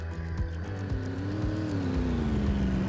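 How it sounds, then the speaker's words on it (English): A car engine in a driving video game drones steadily with a rising and then falling pitch as it passes, over a low rumbling background. "I hear another car."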